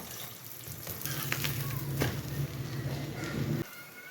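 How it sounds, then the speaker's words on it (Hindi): An aloo paratha fries in oil on a hot pan, a close, steady sizzle with a low hum that cuts off abruptly near the end. "अब ये रोटी डाल देंगे। ये ऑयल लगा दिया मैंने।"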